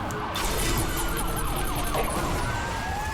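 A police car siren wails in the racing game Need for Speed: Hot Pursuit Remastered, rising and falling steadily over a constant loud engine roar.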